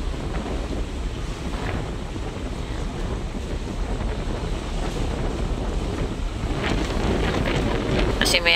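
Strong, steady wind roars across the microphone on a passenger ship deck, with a constant low rumble of the moving ship and faint water wash, no voices.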